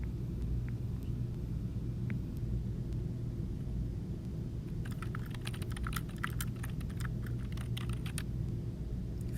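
Fingers tap numbers into a calculator as quick, light key clicks. The clicks grow dense in the second half over a steady low room rumble, and no one speaks.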